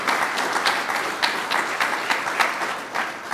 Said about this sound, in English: Let's give her a round of applause for what she's done for South Dakota and for our university.